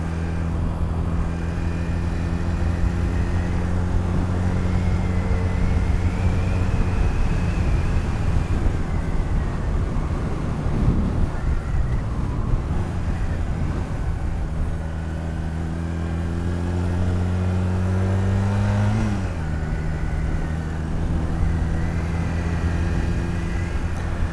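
A Honda Rebel 250 motorcycle engine runs continuously nearby, its pitch climbing and dropping through several rising sweeps as it revs, with road noise underneath.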